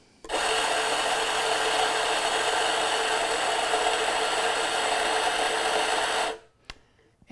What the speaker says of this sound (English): So let's go ahead though and grind our coffee.